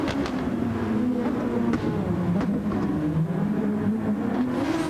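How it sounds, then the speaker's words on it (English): A Super Formula racing car engine in a video game drones and revs at close range at Autopolis International Speedway, with sharp intermittent exhaust pops and crackles on downshifts throughout. "Just listen to those exhausts just popping away."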